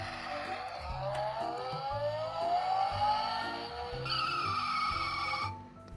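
A Land Rover Defender 110 diecast toy car plays its electronic engine sound effect, a rising, revving whine with a squeal-like tone over a choppy low hum, continuous and fairly quiet before cutting off near the end.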